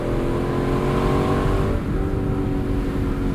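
A 2022 Lexus LC 500 Convertible engine drones loud and close, a steady rich revving roar that dips briefly midway before settling back to a constant pull.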